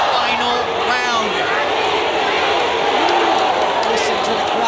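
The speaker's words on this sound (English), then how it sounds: "Listen to the crowd. It is absolutely deafening." A packed, sold-out arena crowd roars steadily during the final round of a One Championship fight, a dense, continuous wall of cheering and shouting that never lets up, with voices blended in throughout.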